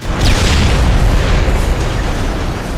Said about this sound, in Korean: 저 폭발은 진짜예요.